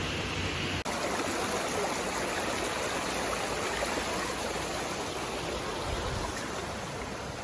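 Steady, loud roar of San Roque Waterfalls in Claveria, a dense continuous rush of falling water filling the whole scene with no voices.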